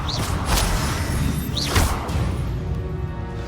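In a Hogwarts Legacy fight, a fiery Confringo spell blast whooshes and then bursts, and a second blast follows about a second later, both loud over a continuous rumble of game ambience.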